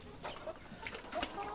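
Laying hens on a small poultry farm cluck in soft, scattered bursts at close range, with a steady low background hum and no talk.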